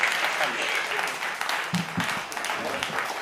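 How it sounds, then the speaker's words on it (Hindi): Audience applause at a kavi sammelan and mushaira for the poet Furkan Sardhanvi, a bright spread of clapping under a voice that speaks briefly in the middle. "जोरदार तालियां भाई फुरकान सरदनवी साहब।"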